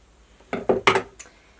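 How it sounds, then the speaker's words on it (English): Scissors snip through a scrap of lightweight woven fusible interfacing laid over four purse feet, giving three close, crisp cuts in quick succession followed by a fainter fourth snip, with no talking. "I'm just going to lay it over all 4 of the feet and cut a scrap."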